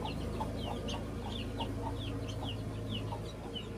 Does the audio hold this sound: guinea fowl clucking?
yes